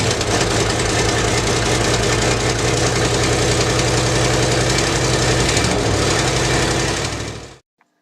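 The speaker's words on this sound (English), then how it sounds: "That's the 73 Continental. Bit of a cold, long start, but it's still a great running car." A 1973 Lincoln Continental with dual exhaust idles after a long cold start, giving a loud, close, continuous rumble with a slight knocking roughness that holds steady for about seven seconds before stopping abruptly.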